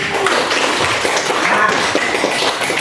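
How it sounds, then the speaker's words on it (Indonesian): Classroom students clapping in a steady, dense burst of applause that stays fairly loud for the whole stretch, with scattered hand taps and a little background voice noise. "luar biasa, tepuk tangan dong."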